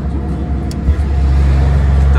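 Volvo FH 380 truck descending a mountain road with the engine brake on its second stage, a deep rumbling drone that swells louder and steadier partway through, with a brief voice early on.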